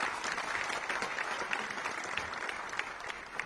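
Steady applause from an audience welcoming guests at a forensic science conference at Gujarat University, even, continuous clapping at moderate level with no talk over it.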